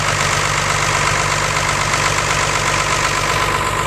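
A big Ford engine idles with a steady, continuous rumble and a constant low mechanical hum, loud and unbroken throughout, with no voices.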